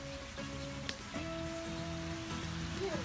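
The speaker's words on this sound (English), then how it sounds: "It does rain a lot here, Sarah." Rain falls outdoors as a soft, steady hiss heard from close by, with faint tonal sounds over it throughout.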